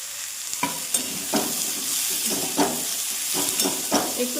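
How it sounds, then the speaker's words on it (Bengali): Sweet potato, peas, beans and potato sizzle in a pan for dalia khichuri, with a steady fry under repeated scraping stirs of a spatula at a close, moderate level. "একটু ভেজে নেব মশলা দেওয়ার আগে।"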